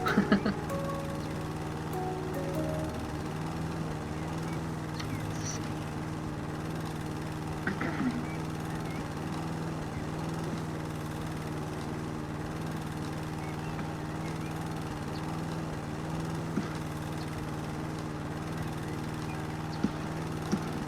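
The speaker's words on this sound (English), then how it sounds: "it's not like you can make designs in the grass with the lawnmower" A lawnmower cuts grass in the video game House Flipper, a steady, low motor drone that holds evenly for about twenty seconds, with only a few faint clicks over it.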